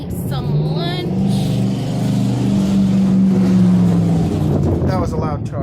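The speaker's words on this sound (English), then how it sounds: "That was a loud truck." A loud truck passes close by on a street, a steady heavy engine rumble that swells and fades across the clip, with people talking over it.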